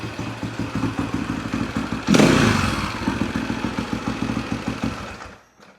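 A rare Husaberg dirt bike engine idles close by with a steady, rapid thumping pulse, rising briefly in a louder burst midway before settling back to idle and cutting off at the end.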